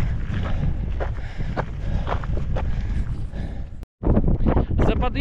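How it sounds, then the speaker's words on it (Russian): Strong wind on a hike past a mountain rise in Kyrgyzstan buffets the microphone with a loud, continuous low roar, cut by one brief dropout, while a voice talks under it. "За подъемом начался довольно сильный ветер."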